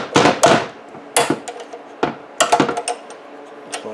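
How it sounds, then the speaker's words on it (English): Metal wrench work on the valve adjustment nut of a Kohler SH265 engine, several sharp close clinks and taps in irregular bursts, loud and alone. "Loosen this nut."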